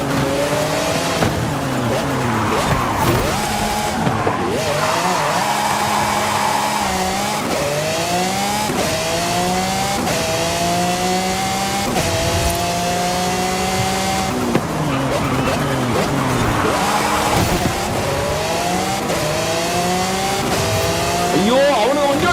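A racing car in a Horizon racing video game revs hard through repeated rising engine whines and gear shifts, with tire squeal, while someone talks excitedly over it.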